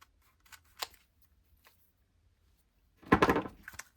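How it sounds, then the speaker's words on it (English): Scissors snip through paper in a scrapbooking project: a few faint isolated snips, then a louder, quick burst of cutting near the end in an otherwise quiet room. "scissors."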